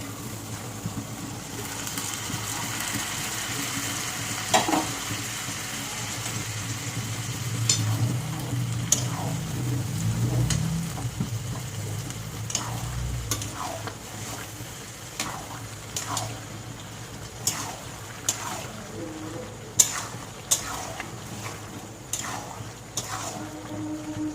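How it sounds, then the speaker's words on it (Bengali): Boiled peas are stir-fried for ghugni in a pan with spices and oil, giving a low steady sizzle. Frequent light clicks and scrapes from a spoon stirring run through it, close by and without talk. "মটরটা দিয়ে একটু ভালো করে কষিয়ে নেব।"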